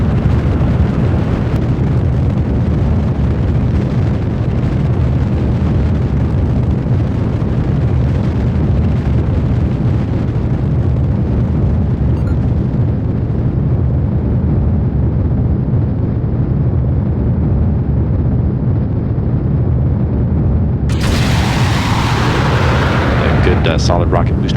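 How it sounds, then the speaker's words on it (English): Space shuttle Endeavour's solid rocket boosters in Kerbal Space Program, a loud continuous roaring rumble through ascent, with a bright hissing burst near the end at separation; a voice narrates over it. "Solid rocket booster separation"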